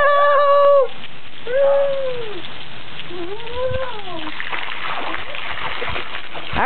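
Water splashes and rushes into an emptied backyard pool as it is refilled, a steady broadband wash in the second half after a few drawn-out vocal exclamations.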